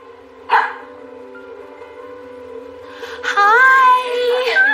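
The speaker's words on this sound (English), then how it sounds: "You must have heard him barking." A husky cross barks indoors: one sharp bark early, then a quiet stretch before a burst of higher yips and whining barks near the end.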